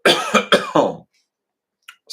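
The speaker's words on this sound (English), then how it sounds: "been coughing a lot lately" A person coughs four times in a quick, harsh run close to the microphone, then falls quiet before a faint breath or throat sound at the end.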